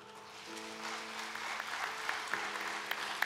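Church congregation applauding certificate recipients of an intercessory prayer seminar during a Sunday service, steady moderate clapping from many hands filling the room, with a sustained organ or keyboard tone underneath and a few sharper claps standing out.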